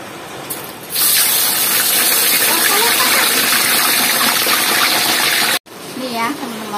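Tilapia fish frying in a pan in a home kitchen, a loud steady sizzle and crackle of hot oil that fills most of the clip, then cuts off briefly near the end before resuming.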